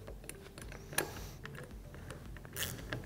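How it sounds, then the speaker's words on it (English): Hardware on a rear windshield bracket of a Polaris Ranger XP900 is tightened, giving faint, close clicking and ratcheting mechanical sounds with a couple of sharper metallic ticks. "Once you have your hardware started, you're going to go ahead and fully tighten it."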